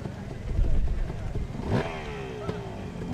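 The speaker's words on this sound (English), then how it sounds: "Hear the bike revving up." A Harley-Davidson motorcycle engine revs up at a hill climb, rising in pitch with a clear swelling sweep midway, against steady background engine rumble and crowd noise.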